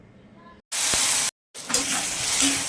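Onions and tomatoes sautéing in a pan for pepper chicken fry, bursts of loud sizzling and stirring close up, broken by two brief gaps of silence.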